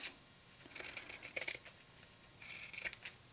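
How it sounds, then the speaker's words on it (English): Pinking shears snipping through fabric curves while making a tote bag, soft crisp cutting strokes in two short bursts, quiet and close with no talking. "I'm going to use pinking shears on the curves"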